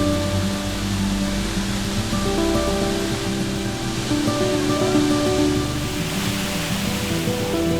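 A waterfall roars in a Tahitian canyon, a steady, dense rush of falling water that fills the scene continuously and loudly, without breaks, alongside a faint steady hum.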